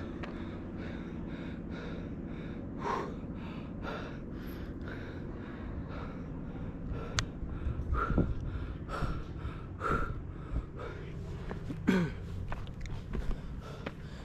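A hiker on the uphill trail toward Lower Dewey Lake near Skagway breathes heavily, with repeated gasps and sighs mixed with footsteps on the path, close and moderately quiet over outdoor background.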